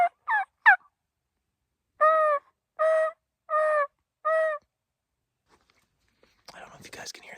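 A turkey call sounded on a first hunt while scouting: three quick, close notes, then four longer, evenly spaced gobbling yelps, followed by faint rustling.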